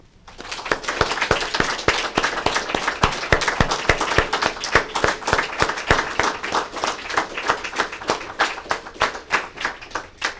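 Mourners at a funeral ceremony give a sustained round of applause, dense steady clapping close and loud throughout, thinning slightly toward the end, with no speech.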